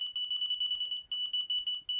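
Delkim fishing bite alarm beeping: a steady run of sharp, high-pitched electronic beeps in quick rhythm, with a brief pause near the middle and short gaps later, loud and close with no talk.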